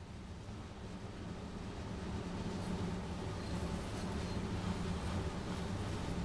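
A train on the Arosa line from Chur in Train Sim World 2 runs through without stopping, a steady, loud low rumble and rolling noise that builds slightly and holds throughout.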